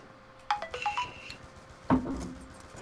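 A mobile phone rings in short melodic electronic tones, a rising chime phrase followed by a second brighter burst, heard close against quiet background noise with no speech.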